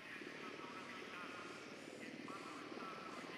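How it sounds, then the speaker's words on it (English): Drone hovering in the video game Ghost Recon Wildlands, a steady whirring rotor drone with a constant broad hum filling the background, faint and continuous with no pauses. "The drone is up."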